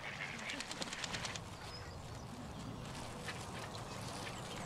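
Ducks quacking near the water at a pond, a quick run of calls early on, then fainter scattered quacks under a light background, with someone talking softly.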